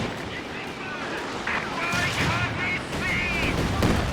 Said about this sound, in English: So now they're even shooting a land mattress at me